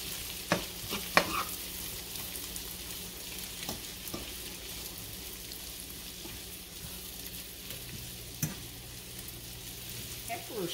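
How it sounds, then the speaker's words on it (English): Garlic pepper shrimp sizzle steadily in a frying pan while a utensil scrapes and knocks against it during a few stirring strokes, with the frying continuing evenly between them. "I'm gonna go ahead and just give that a little stir."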